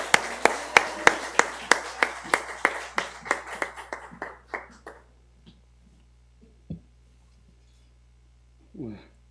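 A church congregation at a Sunday afternoon service claps in steady unison to welcome a missionary, a dozen crisp rhythmic claps that gradually fade out, followed by near silence with a few faint knocks and a brief voice.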